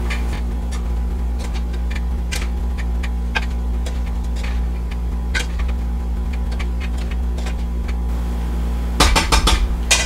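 Mutton biryani is gently mixed in its pot, with sparse clinks and taps of a spoon against metal over a steady low hum, and a quick burst of clatter near the end.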